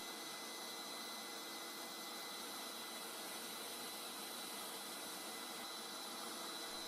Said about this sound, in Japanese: 掃除機のスイッチを入れてフリットを回収します。